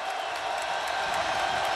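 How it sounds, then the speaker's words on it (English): Football stadium crowd at a Central Florida Knights versus South Florida Bulls game, a dense, continuous roar of cheering and shouting voices with no pauses. "This crowd is amped up"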